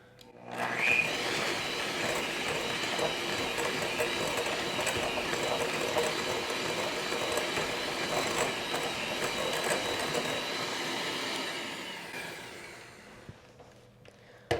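An electric hand mixer whirs steadily in a bowl, softening four ounces of cream cheese for a low-carb pumpkin spice caramel cheesecake, a continuous close motor drone that runs for about twelve seconds before winding down and stopping.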